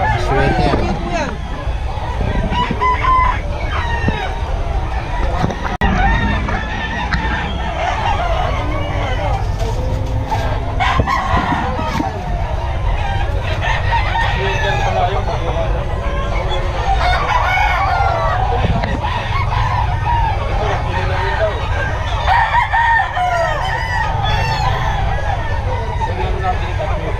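Sweater gamefowl roosters crow repeatedly among clucking birds at a busy poultry gathering, with steady crowd chatter and nearby talk throughout.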